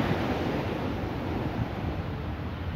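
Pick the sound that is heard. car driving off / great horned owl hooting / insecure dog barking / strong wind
strong wind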